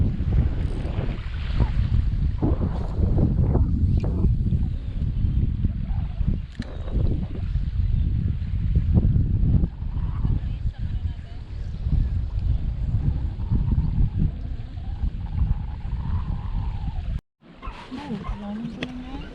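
Wind roars across the microphone at a windy fishing spot where someone is casting for shrimp, a steady, loud, low rumble of gusts that runs throughout, with voices faint beneath it, before a brief dropout near the end.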